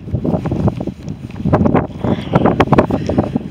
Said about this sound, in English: I'm going to have the wind behind me now.